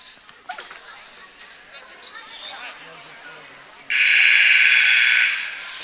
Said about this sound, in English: First timeout buzzer.